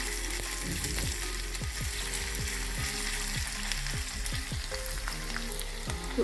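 Curry leaves frying in hot oil in a pan for oats upma, a steady close sizzle with a few soft stirring scrapes, no voices.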